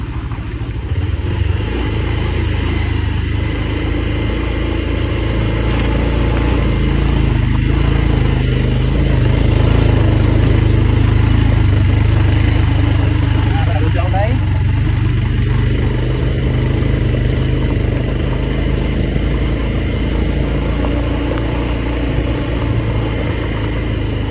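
A motorbike or auto-rickshaw engine running on a village road, a loud, steady droning rumble that holds unbroken throughout, close by.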